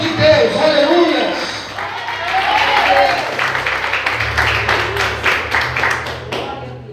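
Congregation clapping inside a church during a sermon, a dense sustained round of applause with rhythmic claps rising and falling over a low musical drone, lasting throughout.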